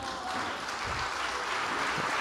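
Audience applauding at a talk with José Luis Rodríguez Zapatero and Juan Sasturain, a dense, even wash of clapping that holds steady throughout.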